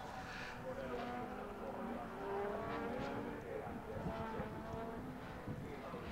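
Legends series race cars brake hard into a corner at the Botniaring circuit, their engines buzzing and downshifting at a distance, with a commentator talking over the steady track noise.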